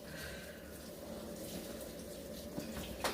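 Water gushes steadily into a new washing machine as it fills, a constant rushing flow with a faint clunk near the end and no voices.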